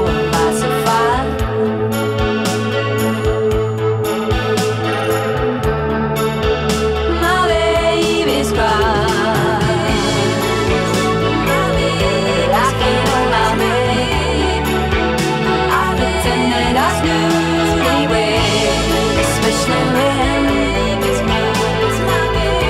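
A song plays continuously, with layered hazy guitars, steady bass and drums and sustained dreamy tones, full and even in loudness with no talking.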